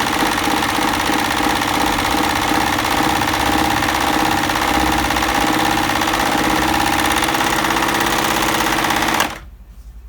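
A Bernette b44 overlock machine stitches a three-thread narrow overlock, a loud, steady, fast mechanical whir and rhythmic clatter running without pause for about nine seconds before stopping abruptly, no talk.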